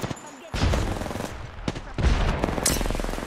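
Gunfire in a multiplayer battle-royale shooter, with Pathfinder and grenades in the match: bursts of rapid shots crackle through the clip, loud and close, with brief pauses and faint voices underneath.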